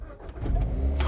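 A Toyota Corolla with a 1.8 litre inline four-cylinder engine starts up: a short crank, then the engine catching and settling into a low, close idle rumble.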